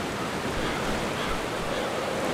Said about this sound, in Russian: Водопад, вот он.